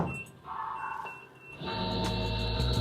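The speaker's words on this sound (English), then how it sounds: "It's beeping. It's brand new. I don't know why it's beeping." A brand-new Nova Plus leather cutting machine in a leather workshop gives off steady electronic beeps and a sustained tone, alone and fairly close, with mechanical hum in the background.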